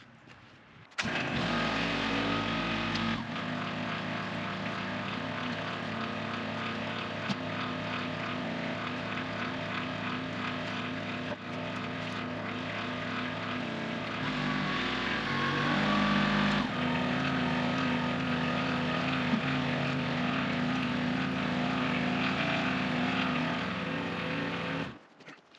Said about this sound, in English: I'm gonna go get another log with my tractor.